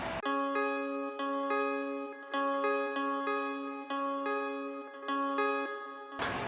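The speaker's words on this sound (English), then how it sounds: "I started out with a basic guitar that is just bouncing from note to note" A basic guitar line bounces back and forth between two notes in a steady repeating pattern for a pop-rap beat, with sustained, ringing tones and no other instruments.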